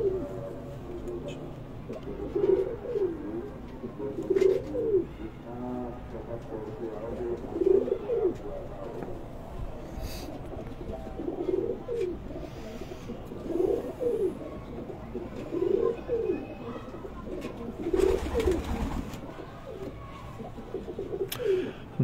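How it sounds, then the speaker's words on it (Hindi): Pigeons coo on a rooftop in repeated soft, rolling calls every couple of seconds, fairly near, while someone talks over them throughout. "माशाल्लाह बहुत ही अच्छे साइज के कबूतर"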